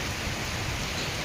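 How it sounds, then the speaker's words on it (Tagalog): Typhoon rain pours in a steady, dense hiss of drops hitting surfaces, loud and continuous throughout with no voices. "Medyo umina na yung ulan mga kaibigan."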